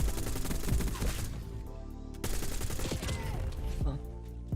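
In an online shooter match, rapid bursts of gunfire crackle in quick volleys, fairly loud in the mix, with a brief pause before more shots break out.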